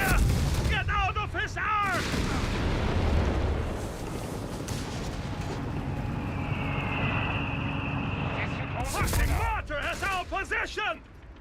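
MG42 machine gun fire in Company of Heroes 3 with German Panzergrenadier squads on a fuel point, dense rattling bursts and battle rumble running under a caster's fast talking.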